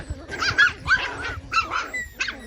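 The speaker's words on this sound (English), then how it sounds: "The neon green collar black puppy is on top that squabble." Schnoodle puppies squabble in a pile, letting out a rapid series of high yips, small barks and growls close to the listener, in four or five quick, uneven bursts.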